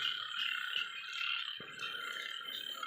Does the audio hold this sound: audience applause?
no